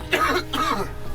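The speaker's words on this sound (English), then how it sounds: "having a bit of a coughing fit" A swimmer on an open-water ocean swim coughs after swallowing seawater, two short harsh coughs close to the microphone, sounding rough and throaty.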